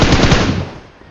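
Loud, rapid automatic gunfire from PUBG Mobile fills the short moment, a close dense burst that trails off quickly as enemies are knocked down.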